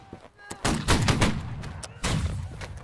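A musket line firing a volley in Holdfast: Nations At War, with several loud, close shots cracking almost together in a ragged burst, then a second shot shortly after.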